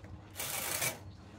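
A domestic knitting machine running a punch-card pattern makes a dense, rapid clatter as the carriage sweeps across, loud for about half a second, then falls back to a faint mechanical rustle.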